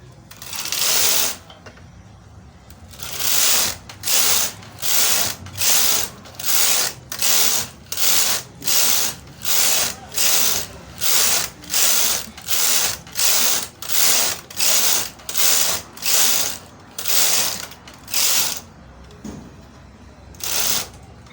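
A chunky-gauge knitting machine carriage is pushed back and forth across the needle bed, knitting straight rows. About twenty evenly spaced mechanical swishes and clatters come close and loud, one per pass, with brief pauses between.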